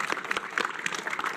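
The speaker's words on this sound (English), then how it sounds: "Give yourselves a big round of applause." An audience at the F1 in Schools 2025 UK National Finals claps in a brief, dense burst of applause from a crowd, close and steady for just over a second.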